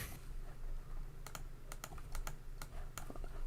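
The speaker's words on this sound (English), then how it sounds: "My keyboard better start fucking working" Fingers type on a computer keyboard during a podcast, giving irregular, crisp clicks in short clusters over a steady low background hum, with no voices.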